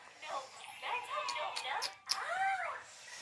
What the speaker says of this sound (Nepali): कुकुरले घुङ्गी खायो? यहाँ कुकुर हेर्नु।